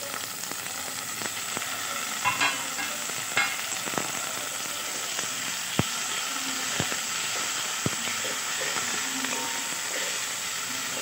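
Chopped tomatoes hit translucent onions in a hot pan, giving a steady close sizzle with sharp ladle taps and stirring scrapes scattered throughout.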